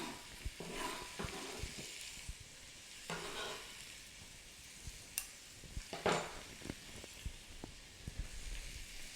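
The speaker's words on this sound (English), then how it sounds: "this is going to be sauteed here for maybe 5 minutes" Chunks of vegetables sauté in a pan for lentil soup, giving a steady close sizzle broken by repeated scrapes and stirs of a utensil against the pan, with no voices.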